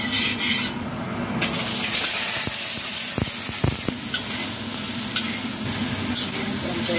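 Thinly sliced pork belly fries in oil in a pan, a steady close sizzle broken by a few sharp clinks and scrapes of stirring, with no voices.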